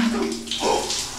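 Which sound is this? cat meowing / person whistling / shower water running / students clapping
shower water running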